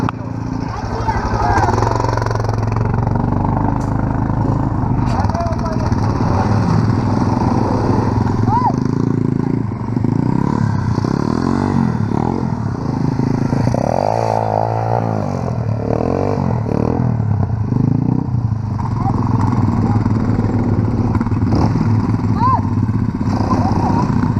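Quad bike engines run steadily on sand, a loud continuous drone with revving swells that rises and falls, while people talk over it.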